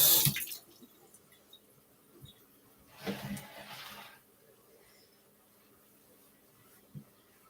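Tap water runs in short bursts into a kitchen sink while a pepper is rinsed under it, a brief splash at the start and a fuller rush a few seconds later, with quiet pauses between and no talking.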